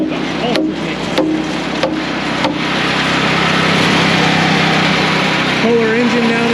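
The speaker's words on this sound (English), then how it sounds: "So this mixer is actually a Toro, which I know Toro is not known typically a lot for their mixers." A Toro Ultra mixer powered by a Kohler engine runs with a steady, close mechanical drone, broken by a few sharp knocks early on.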